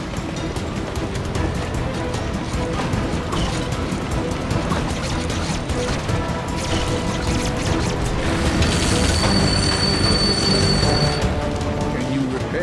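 Continuous rumbling roll of a train in The LEGO Movie Videogame, a dense wash of rail noise with clatter and a brief high whine partway through, held at steady volume across the whole stretch.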